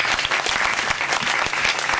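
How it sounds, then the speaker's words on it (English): A community gathering for San Francisco's Calle 24 district breaks into loud applause, with many hands clapping in a thick, continuous wash that stays near and full throughout. "So give yourselves a big round of applause."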